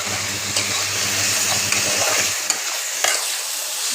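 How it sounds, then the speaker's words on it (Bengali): Boiled potatoes and sour curd sauté in a pan with a loud, close sizzle and steady stirring, a low hum running beneath for the first half before a few sharp spoon knocks. "টক দই দিয়ে দেবো, আলু সেদ্ধগুলো দিয়ে দেবো, দিয়ে বন্ধুরা কষাবো"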